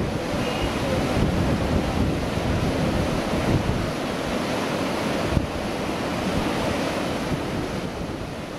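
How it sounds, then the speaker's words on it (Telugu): Floodwater streams in Devarakonda constituency, Nalgonda, surge after heavy cyclone rains, giving a continuous, loud rushing roar that holds steady throughout with no voices. "దేవరకొండ నియోజకవర్గంలోని వాగులు పొంగి పొర్లుతున్నాయి"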